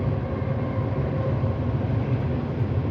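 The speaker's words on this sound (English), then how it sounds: "the train just went by. I'm sure you can hear that." A train passes by, a loud, steady low rumble and rolling rail noise sustained throughout with no talk.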